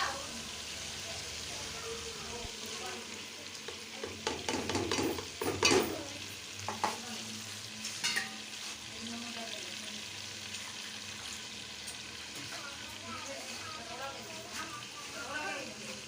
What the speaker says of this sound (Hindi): अब हम इसमें ऐड करेंगे दही, कौरमा मसाला, हरी मिर्च। उसको थोड़ी देर तक भूनेंगे।